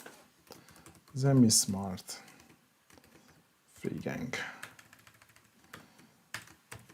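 Short bursts of clicky key presses on a computer keyboard while renaming a Zemismart three-gang Zigbee wall switch, close and light, interleaved with someone speaking.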